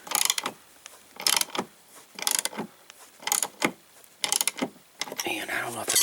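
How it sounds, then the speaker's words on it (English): A wrench tightens the blade fan hub on a Black & Decker electric lawn mower, giving about six bursts of ratcheting mechanical clicks with short pauses between them, close and fairly loud. "take the wrench and just tighten the sucker up"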